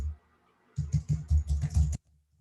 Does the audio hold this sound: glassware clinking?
no